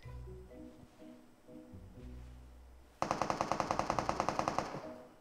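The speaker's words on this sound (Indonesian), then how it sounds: "Nembak air dia." In PUBG Mobile, an automatic weapon fires a fast, evenly spaced burst of about fifteen loud shots at water, following a low rumbling engine-like drone.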